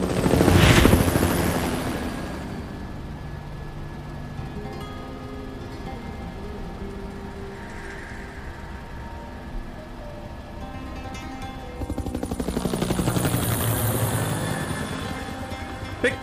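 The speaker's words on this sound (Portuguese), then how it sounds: "tem que ter o helicóptero no horizonte, senão não é Resident Evil" A helicopter in the video game Resident Evil 4 thuds with rotor noise that swells loud at the start, fades to a distant hum with ambient game sound, then grows loud again near the end.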